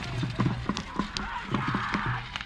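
Bullocks pulling carts in a bullock-cart race at Shindawane, hooves pounding in a rapid irregular clatter, fairly close, under a noisy crowd with voices talking.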